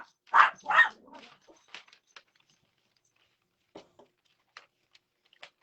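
A dog gives two quick close barks, followed by scattered faint clicks and small noises in an otherwise quiet room.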